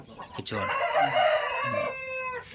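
A Bhimavaram-type rooster crows one long, loud, strained call close by, rising and then trailing off, after a few brief clucks at the start.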